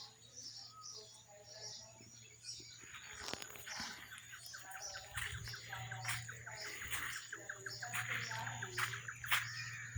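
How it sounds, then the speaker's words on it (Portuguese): Birds sing and chirp outdoors after rain, with repeated bright calls from several birds at moderate distance over a low steady background hum. "Olha os cantos aí dos pássaros."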